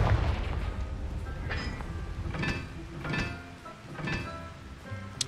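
Confringo fire spell in Hogwarts Legacy, several loud booming blasts spaced about a second apart over a rumbling low background, with no voices during them.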